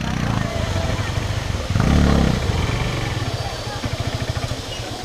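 Motorcycle engine idling and revving on arrival at a hidden waterfall spot in Naubise, Dhading after an offroad ride, a loud steady rumble with a brief surge of throttle midway.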